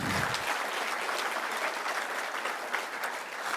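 A large crowd at a charity event in Kenya applauds, dense clapping sustained and fairly loud, filling the space without any talk over it.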